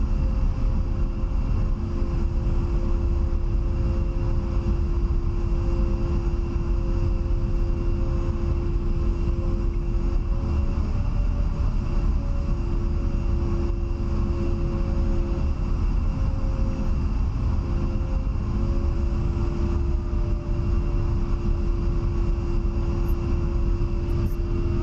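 A-10 jet in the DCS flight game taxis toward parking, giving a steady droning engine whine with a constant tonal hum that holds evenly for the whole stretch, no voices.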